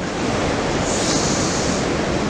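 Surf breaking steadily at Anglet beach, a continuous broadband wash of waves and wind with no pauses or voices, moderately loud throughout.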